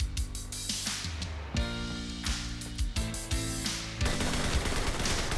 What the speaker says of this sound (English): now we have the Knorr-Bremse MG